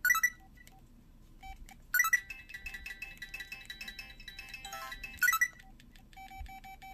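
A Samsung SPH-M610 phone ringtone plays from its small speaker: bright electronic beeps repeat in short bursts between a thin, tinkling melody, moderately quiet.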